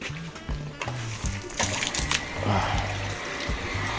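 Water gushes hard from a garden hose fed by a booster pump, making a steady splashing rush that runs the whole time. Brief bursts of speech cut in over it.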